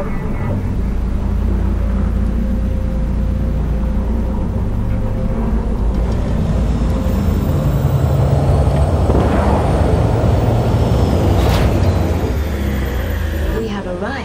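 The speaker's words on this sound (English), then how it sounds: "Initiating landing sequence based on new parameters" An aircraft landing in Cyberpunk 2077, a loud continuous engine roar and rumble with a hissing burst near the end, mixed with game ambience.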